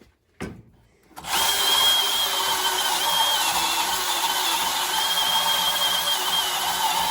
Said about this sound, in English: Lovely Milwaukee M18 bandsaw. Nice, smooth, clean cut.